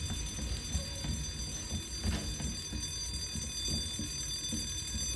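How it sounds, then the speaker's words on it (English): A fire alarm rings steadily in Resident Evil 2 Remake, a continuous electronic tone over low rumbling game ambience and faint clatter, with no talking. "Is there any way I could turn this fire alarm off?"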